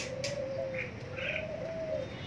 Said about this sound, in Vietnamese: Con trống bên kia nó đang kêu tập tập bên kia kìa